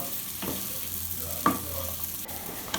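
Roasted bread pieces are stirred with masala in a pan, giving soft, quiet scraping and light sizzling with a few sharper clinks of the spoon against the pan.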